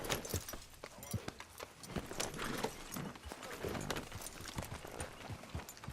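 Rhythmic horse hooves clip-clopping at a steady walk in Red Dead Redemption 2, soft and somewhat distant, with faint ambient sound underneath.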